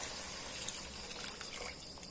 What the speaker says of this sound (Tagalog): Dagdagan ko lang ng kunting tubig para maraming sabaw.